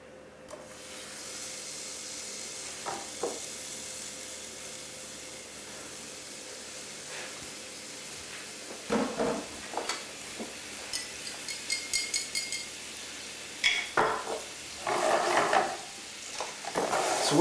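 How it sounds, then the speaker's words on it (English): Beef frying in a pan for stew, a faint steady sizzle with scattered clinks and scrapes of stirring that grow more frequent and louder toward the end. "grab the remaining bit of beef and fry it again"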